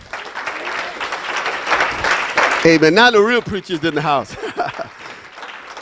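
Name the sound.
congregation clapping in praise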